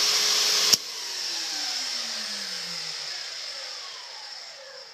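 A loud shop vacuum and saw whine together on a 15-amp circuit, then cut off abruptly near the start, leaving a fading whir as the motors spin down.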